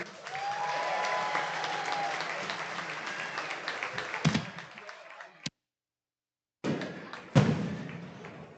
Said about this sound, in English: some fireworks going off here on this Friday night